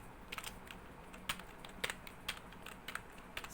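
Program code being typed on a computer keyboard, a quiet, irregular patter of light key clicks in short bursts with brief pauses between them.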